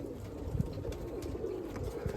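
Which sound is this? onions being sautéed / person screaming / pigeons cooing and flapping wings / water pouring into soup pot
pigeons cooing and flapping wings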